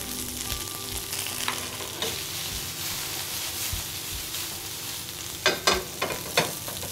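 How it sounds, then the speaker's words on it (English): Cauliflower sizzles and crackles steadily in a hot frying pan, close up, with a few louder clatters of stirring near the end. "You can hear that sizzling it away."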